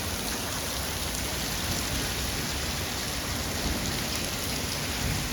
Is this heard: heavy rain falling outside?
yes